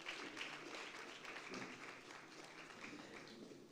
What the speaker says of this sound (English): May we receive her with a round of applause.